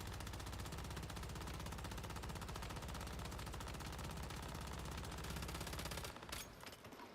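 Dense, sustained automatic gunfire from the survival shooter Once Human, a rapid unbroken stream of shots at steady loudness for about six seconds before cutting off into a brief tail of echoes.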